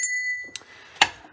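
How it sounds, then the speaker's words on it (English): A single bright bell ding rings out, preceded by a steady high tone that cuts off and a soft tap, all fairly quiet with no voices. "He deserves a bell ring for that."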